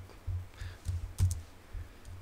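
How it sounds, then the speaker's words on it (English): Typing on a computer keyboard while setting up a Vixen 3.0 lighting effects project, with irregular bursts of soft, close keystrokes and a few louder clacks, without talk. "my typing is not that great"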